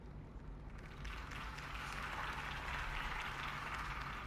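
A crowd in the Batman Telltale game applauds after a campaign speech for Harvey Dent. The clapping swells after a second into a broad, steady wash of many hands over a low background hum.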